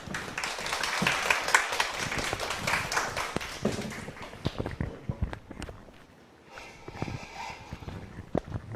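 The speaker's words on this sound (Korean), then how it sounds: "큰 박수로 모시겠습니다" A seminar audience applauds to welcome a law lecturer at a labor-attorney exam information session, with dense clapping that thins out and fades, then a few scattered taps and steps.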